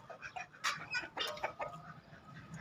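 Guinea fowl and chicks being coaxed back inside their pen cluck and chirp in short scattered bursts, fairly close, with no talking.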